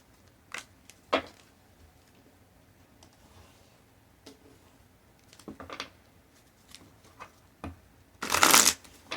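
Tarot cards being shuffled in bursts of quick riffling patter, quiet and close, separated by near-silent pauses and ending in one louder, longer riffle.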